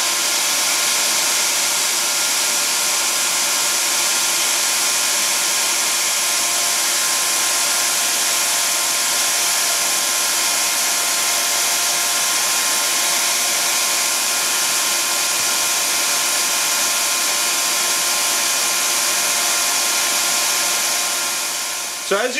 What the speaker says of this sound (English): the bucket collapses if, you know, there's a restriction in airflow. Meaning the vacuum has tremendous amount of suction power